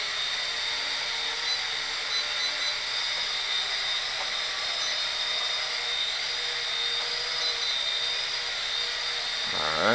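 A Helic Max Sky Hawkeye HM1315 RC helicopter hovers indoors with a steady, high, whining rotor and motor buzz, close and constant throughout without breaks.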